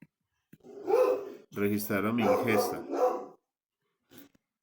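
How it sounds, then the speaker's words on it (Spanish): Dogs bark somewhere in the background while someone speaks steadily in Spanish close by. The barking is partly buried under his voice. "perdón por los perros"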